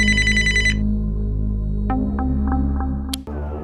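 A telephone ringing late at night: a bright, pulsing electronic ring for under a second over a low, steady hum, with a few faint tones after it.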